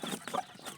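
Mother hen with newly hatched chicks clucking softly at close range, short repeated clucks mixed with faint high peeps, no voices.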